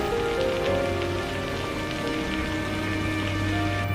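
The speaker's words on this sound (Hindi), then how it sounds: "अरे नहीं, बारिश है, तूफान है।" Steady rain and storm noise in a Hindi cartoon, a dense continuous patter of drops on surfaces, loud and close throughout, with no talking.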